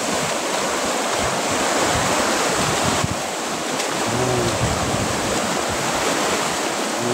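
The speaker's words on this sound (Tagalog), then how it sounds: "Malakas ang alon dito," Strong sea waves crash on the shore in bad weather, a steady loud broadband roar of surf and wind lasting throughout with no voices.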